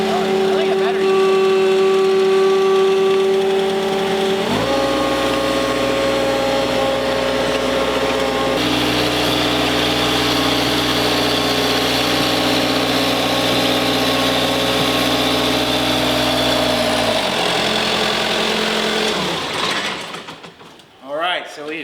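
A Jacobsen ride-on mower engine runs steadily and loudly close by while the machine drives forward, its pitch dropping briefly a couple of times before it fades out near the end.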